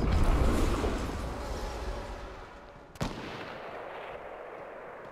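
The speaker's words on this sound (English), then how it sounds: "there's two people shooting at me" Gunfire in a battle royale shooter video game, from two players firing at once: a dense, sustained rattle of shots that tapers off, then one sharp, loud crack near the three-second mark followed by quieter firing.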